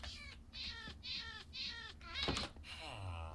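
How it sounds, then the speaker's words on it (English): A cat in the Minecraft video game meows several times in a steady, evenly spaced series of short, clear meows, followed by a brief sharper sound near the end. "I think the cat just spawned inside a block and then died"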